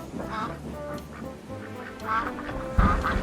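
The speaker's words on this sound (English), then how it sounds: "she quacked with delight every time he stopped by" Duck quacking in a series of nasal calls, close and fairly clear against quiet background noise, growing a little louder toward the end.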